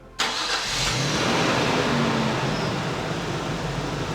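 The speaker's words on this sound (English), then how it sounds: "So we'll start the car right now and we'll see if everything works." An R32 Nissan Skyline GTS-T engine cranks and catches abruptly after a fuel pressure regulator install, then settles into a loud, steady idle close by with a constant rumble.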